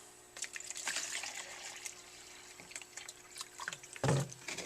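Water is added to a soil block mix being worked by hand, with faint trickling and wet squelching, irregular small splashes and one louder burst near the end.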